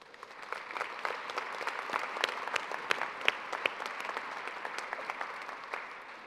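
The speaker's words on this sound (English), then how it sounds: "Let's all give them a round of applause" At the Ithaca College December commencement, the audience gives graduates a round of applause, moderately soft but steady clapping with many individual claps standing out, rising after the start and holding for several seconds.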